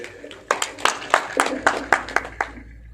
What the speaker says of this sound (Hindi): तालियां थोड़ी सी बजती रहनी चाहिए।